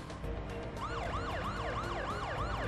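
A police car siren wails in the video game Parasite Eve, a steady up-and-down electronic cycle repeating about twice a second, loud and continuous with low engine rumble beneath and no talk.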